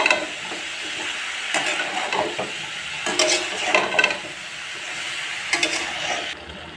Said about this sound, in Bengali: সবজিগুলো একসঙ্গে পেঁয়াজ রসুনের সঙ্গে খুব ভালোভাবে ভাজতে হবে